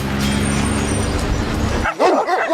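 Several dogs in Argentina bark and yip in quick, overlapping bursts against steady background noise, ending with a few closer, sharper barks and a whimper.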